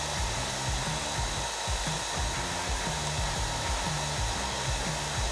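Heat gun warming vinyl graphics so they stretch into place, a steady close blowing hiss and whirr throughout, with a faint knocking underneath.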